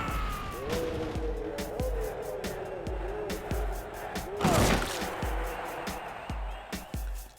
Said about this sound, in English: This is a really fun arcade racing game